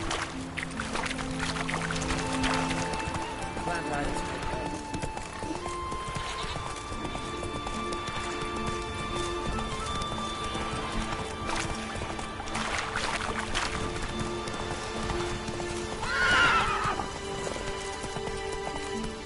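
A horse gallops in The Witcher 3, its hooves clip-clopping in a steady rapid rhythm throughout, with a brief whinny near the end over game ambience.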